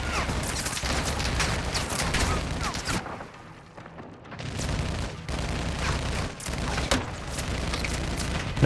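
Grenade launcher firing in the video game Modern Warfare 2 (2022), with dense booming gunfire and explosions rolling almost continuously, easing briefly midway before building again, under a spoken voice.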